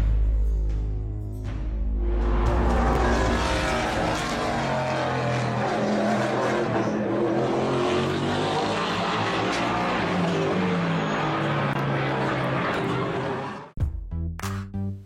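A NASCAR race car driving at full throttle produces a loud, continuous engine roar that holds steady for many seconds. It then cuts off abruptly and is followed by a few brief bursts.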